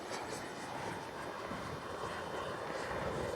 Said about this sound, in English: Nice scale takeoff.